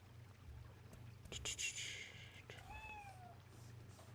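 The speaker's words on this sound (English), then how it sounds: "The cat's trying to get into the bathroom, but he can't because he doesn't know how to work a door handle." A cat at a closed bathroom door gives a few faint meows, including a short rising cry and a thin drawn-out mew, over a low steady hum with soft knocks in between.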